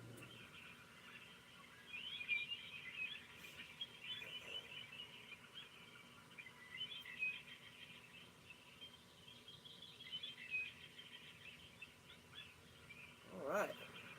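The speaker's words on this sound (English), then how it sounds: "As you can hear, got some birds in the background. Nature sounds." Birds sing in the background outdoors in the morning, faint repeated chirps and trills drifting in and out over a quiet backdrop, with a brief louder sound near the end.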